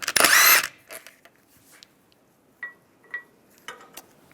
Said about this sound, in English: Use the wheel lock key, find the wheel lock, take that one off with a 17mm socket.